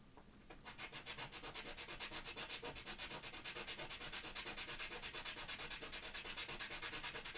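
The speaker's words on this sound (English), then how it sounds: "so I gotta sand that a little more" Steady hand sanding of a small part for a TOTS Good Guy doll mod, a close, continuous rhythmic rasp of quick back-and-forth strokes with no talking.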